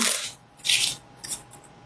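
A regular deck of playing cards being shuffled as oracle cards, in three quick bursts of crisp, papery riffling close by, the middle burst loudest, with no voices.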